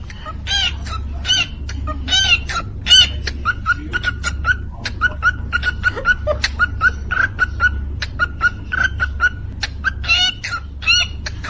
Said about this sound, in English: someone's pet cockatiel is showing off some beatboxing skills.